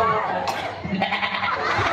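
A person imitates a goat's wavering bleat in a short, nasal burst, close and clear.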